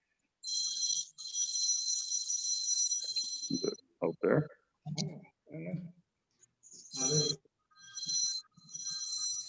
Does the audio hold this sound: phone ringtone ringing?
yes